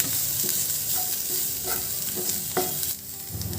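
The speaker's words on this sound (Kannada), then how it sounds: "ಹಾಗೆ ಇದನ್ನು 1-2 ನಿಮಿಷ ಬಾಡಿಸ್ಕೊಳ್ತಿದ್ದೀನಿ" Sliced onions with turmeric sizzle steadily in a hot pan while being sautéed, with close stirring scrapes and clinks over the continuous frying hiss and no talking.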